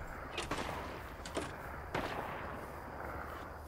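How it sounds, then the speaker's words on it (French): Gunfire in the Fortnite video game: three or four sharp shots at irregular intervals, moderately loud over a steady game background, with no speech. "je suis en train de me prendre pour Neo dans Matrix là. J'esquive toutes les balles"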